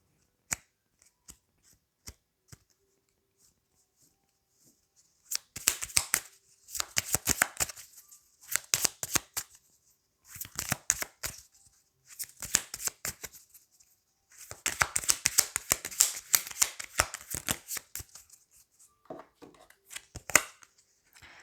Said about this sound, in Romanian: Bun, hai să vedem acum ce zice oracolul.